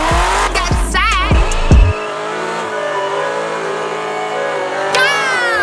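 A 1,000-horsepower car engine revs loudly at a race start, with whooshes, a rising whine and sustained droning, and brief squeals.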